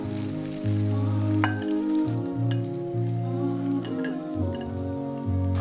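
KFC-style hot chicken wings deep fry in oil, giving a continuous crackling sizzle that sits under a steady bed of background music.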